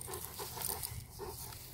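A Cane Corso puppy pants close by in quick rhythmic breaths over a short stretch, with soft background noise and no talk.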